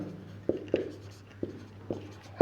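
Pen or chalk writing by hand while working a Class 10 quadratic equations maths exercise, giving five short, sharp strokes and taps spaced irregularly over a steady low hum, quiet and close.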